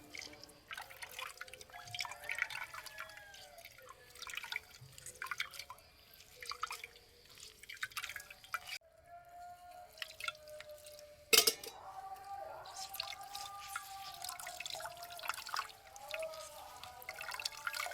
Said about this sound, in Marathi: त्याच्यामधली थंडाई सगळी गाळून घेतली पाहिजे